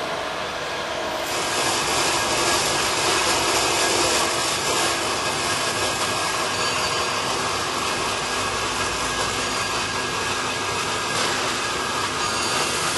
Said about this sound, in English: What he's doing right now is he's setting it up to cut all these pipes to a certain length that he needs.